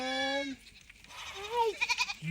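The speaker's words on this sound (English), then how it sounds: "Oh, those sheep." Sheep bleating in a farm setting, a single sustained bleat followed by shorter wavering calls and brief chatter-like sounds.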